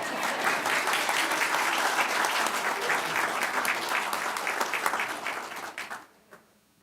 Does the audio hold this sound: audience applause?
yes